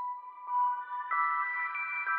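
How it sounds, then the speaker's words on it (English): Nexus synth arpeggio in an FL Studio plugg-style beat, bright stacked tones stepping in a steady repeating pattern, clean and alone at moderate level. "Next, I chose this ARP that's a Nexus."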